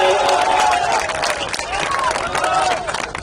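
A crowd at a poetry gathering applauds, a thick continuous clatter of many hands with excited voices and calls rising through it, loud and sustained before easing off slightly.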